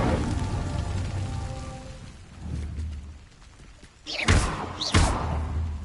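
An Incendio fire spell cast in Hogwarts Legacy, with rumbling whooshes followed by two loud bright bursts of flame near the end.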